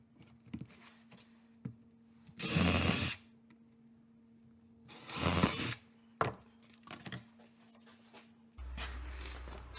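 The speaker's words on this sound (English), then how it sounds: "So I'll drill the holes" A power drill bores holes for mud flaps on a 2014-2018 Chevrolet Silverado or GMC Sierra pickup: two short whirring bursts about two seconds each, close and fairly quiet, with clicks, handling taps and a low hum between.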